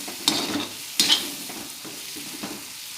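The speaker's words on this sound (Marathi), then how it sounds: "किचन किंग मसाला आणि चाट मसाला चांगलं परतून घ्यायचं." Bitter gourd sautéing in oil with kitchen king masala and chaat masala, a soft steady sizzle broken by a few scraping stirs of a spoon against the pan.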